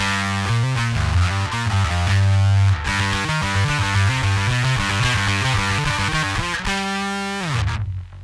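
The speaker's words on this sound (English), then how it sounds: "So the bass overdrive, it offers more like an overdrive" A distorted bass guitar plays a heavy, gritty riff through an overdrive pedal, thick sustained low notes changing steadily, ending with a descending slide.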